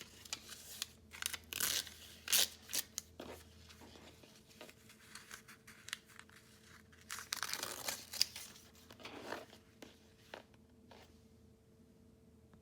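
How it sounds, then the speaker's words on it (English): Perforated paper crinkles and tears away from quilt stitching in short bursts, close by, with rustling and brief pauses between pulls; no talking. "So now we'll just remove the paper"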